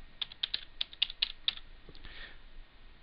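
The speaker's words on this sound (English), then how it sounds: "And I'm going to type in the entire command." Typing a command on a computer keyboard while working with a Cisco router, a quick run of crisp key clicks up close, trailing off into faint quiet after about a second and a half.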